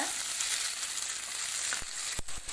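Garlic, green chilli and ginger sauté in a hot pan, a steady close sizzle with a few sharp clinks of a spoon against the pan near the end.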